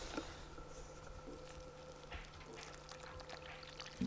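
Water poured from a can into a planting hole on an allotment to puddle in plants, a steady soft trickle and splash running quietly throughout.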